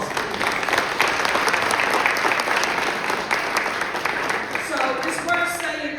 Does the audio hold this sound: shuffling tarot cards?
no